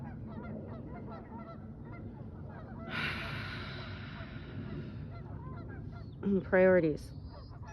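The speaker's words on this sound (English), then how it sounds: "They're making noise. Are they flying? They sound like they're on the beach" Birds honk on a beach, a faint distant chorus early on, then a brief louder burst of honks near the end over quiet background noise, with a short spoken word in between.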